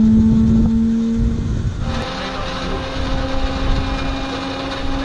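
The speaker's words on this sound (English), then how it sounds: "So we'll spool up until you don't hear a pitch change." A Harvard T6 aircraft engine spools up during start-up, a loud, close, steady droning whine that holds even pitch throughout, with no voices.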